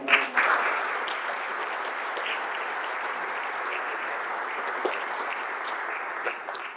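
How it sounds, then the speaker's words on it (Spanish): Sustained audience applause at a business conference panel in Los Cabos, a dense even wash of clapping that stays steady throughout after a slightly louder start. "un aplauso para ella."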